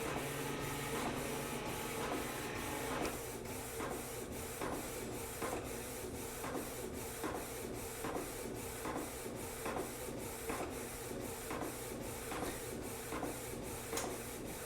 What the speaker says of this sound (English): I won't say it's a loud printer, but there is some options that are a bit quieter